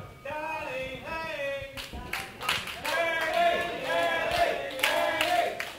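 Wrestling crowd at a live WrestleForce event in Tonbridge cheering, chanting and clapping throughout, a steady dense roar of many voices with rising surges of sung chants.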